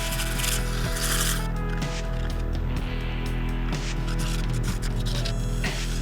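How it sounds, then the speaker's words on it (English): Continuous scratchy rubbing of sandpaper, 120 to 400 grit, against a claret ash live-edge bowl on a lathe, close up, with an underlying machine hum and occasional bumps. "So what I'm doing now is just sanding up through 120 to 400"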